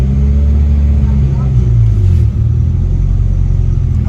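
An Acura Integra engine, just swapped to a manual transmission, idles and revs: a loud, steady, close rumble with a brief rise and fall in pitch.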